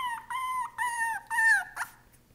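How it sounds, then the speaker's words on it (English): A four-week-old female puppy separated from her litter whimpers close up, three or four drawn-out high whining cries in quick succession ending in a short yelp. "she's calling her litter"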